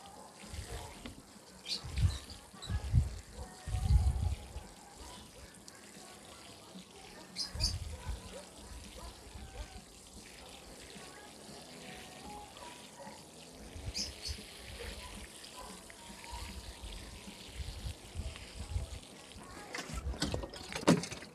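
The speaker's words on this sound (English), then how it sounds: "water, guys, water. Make sure you make it nice and wet." Water poured onto freshly planted ginger in soil, a splashing, trickling flow that comes in several louder bursts through the clip amid steady outdoor background.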